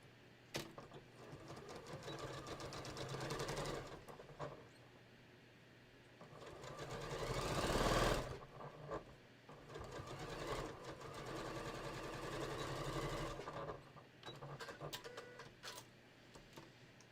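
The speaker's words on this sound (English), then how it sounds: "I'm just going to stitch using a 1/2 inch here" A sewing machine runs in a steady whirring, clattering stitch while sewing a tote bag seam at a half-inch allowance, with brief pauses and a louder stretch midway, fairly quiet and close.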